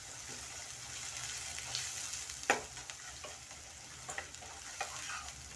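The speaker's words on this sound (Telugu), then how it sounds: "ఈ అల్లం వెల్లుల్లిపాయ పేస్ట్ పచ్చివాసన పోయేంత వరకు ఫ్రై చేయాలండి" Ginger garlic paste with turmeric frying among onions in a pan, a soft, continuous sizzle broken by occasional stirring scrapes and taps, fairly quiet and without speech.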